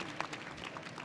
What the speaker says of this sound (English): A round of applause for all our speakers